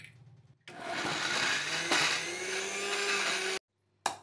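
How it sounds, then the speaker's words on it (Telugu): A kitchen mixer grinder whirs loudly as it grinds roasted fenugreek and cumin, a steady high motor roar running about three seconds with a brief pitch shift midway before stopping abruptly, then a short restart burst. "ఇప్పుడు మిక్సీ పెడదాం."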